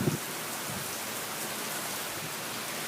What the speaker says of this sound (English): Look at the rain curtains.